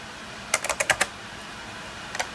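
Fingers type a command on a computer keyboard during graphics card flashing on a Mac Pro: a quick burst of about five crisp key clicks, a pause, then a couple more taps, close and fairly quiet, with no voices.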